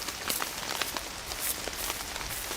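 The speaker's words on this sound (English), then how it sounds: "just the sound of the rain in this game is so good" Rain in a VR hunting game, a dense steady patter of drops on surfaces with scattered louder taps, continuous and fairly close.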